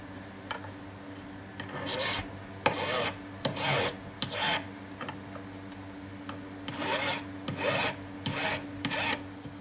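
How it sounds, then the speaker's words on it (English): Repeated rasping strokes of a metal file taking down a rivet, coming in short bursts of several steady back-and-forth passes with brief pauses between them, close up and alone. "this can be filed down to a reasonable"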